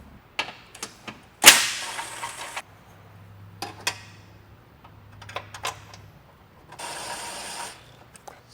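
A hand ratchet removing a bolt from a Toyota Tundra front bumper, clicking in short bursts of pawl ticks between pauses, with a sharp metallic clank early on and a low hum in the background.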